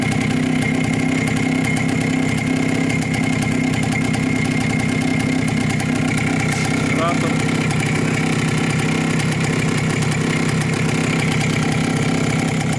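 A Minsk motorcycle engine idles steadily and loudly close by, running unevenly with a worn carburettor, a continuous rumble throughout with some talk mixed in.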